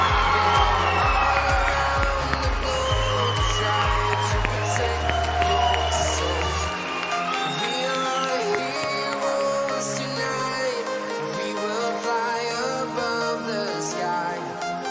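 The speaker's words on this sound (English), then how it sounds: "please give a round of applause for the graduating class of" Crowd cheering and applause for a high school graduating class at a 2022 graduation ceremony, sustained and loud throughout, with low musical tones under the first half and scattered whoops.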